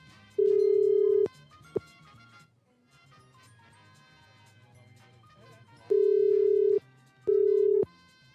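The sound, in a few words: telephone ringing on a radio call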